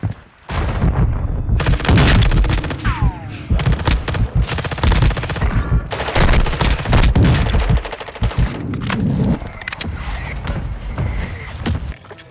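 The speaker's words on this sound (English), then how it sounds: "Hostile mortar strike incoming." A mortar strike in Call of Duty Warzone sets off a heavy barrage of rapid gunfire-like cracks and booming blasts, loud and close, in clustered bursts with short pauses and a brief voice in the mix.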